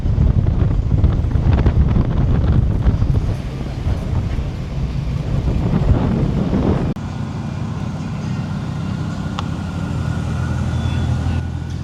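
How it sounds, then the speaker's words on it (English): Strong gusty wind buffets the microphone outdoors at a car show, with heavy rumbling bursts that ease to a lower steady roar partway through and faint background activity behind it. "it's so windy, I just had to chase my hat down"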